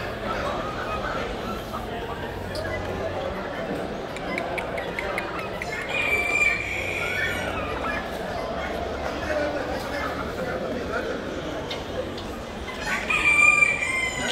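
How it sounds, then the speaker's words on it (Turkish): Several bantam roosters crow with short, high calls, one near and others farther off, over steady chatter and clucking of a busy poultry yard at a bird and animal market in Bursa, Turkey. "Cin horozları."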